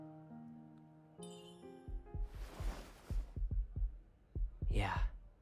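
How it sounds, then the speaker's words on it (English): Inside the Love and Deepspace video game, a heartbeat heard through headphones thumps in a steady, low, soft pulse of about a dozen beats, joined by chimes, breathy whooshes and a whisper. "Now we're hearing our heartbeats."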